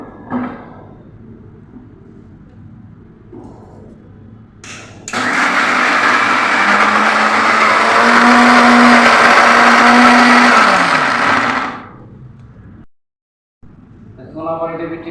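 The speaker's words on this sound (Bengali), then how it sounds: "এটাকে আমি ব্লেন্ডার করে নিয়ে নেব" A kitchen blender grinds coconut, peanuts, onion, garlic and green chilli for chutney, running loud and steady for about six seconds between stretches of quieter background and talk.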